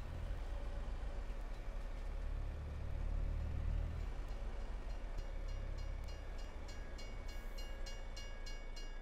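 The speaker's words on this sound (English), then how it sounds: "The train was right there." A train rumbles past nearby with a steady low roar and rolling wheel noise, heard from inside a vehicle, with faint rhythmic clatter toward the end.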